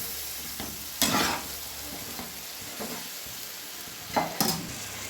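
Freshly pressed coconut milk is poured into a hot cooking pan and stirred, giving soft hissing simmer with a few brief louder sizzle bursts and scraping stirs, close and moderately quiet, with no talking.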